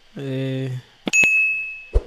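A notification bell rings, a bright metallic ding that sustains and fades after a sustained tonal chime, with brief clicks around it.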